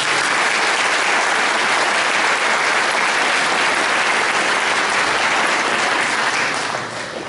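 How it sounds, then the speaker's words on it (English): A civic band concert audience in Piqua, Ohio claps loudly and steadily, a thick wash of applause that holds throughout and eases off slightly at the very end. "Let's give them a round of applause."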